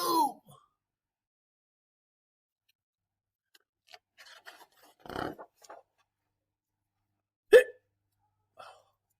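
Small toy-like penguin hiccups heard as a few short, isolated squeaky bursts spaced apart in a quiet room, with one sharp louder hiccup near the end and a brief voice at the start.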